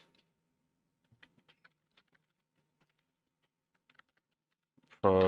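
Clicks of typing on a computer keyboard while entering SQL Server queries, a sparse run of soft, irregular keystrokes with gaps, close and fairly quiet, ending in a sudden loud burst of nearby speech.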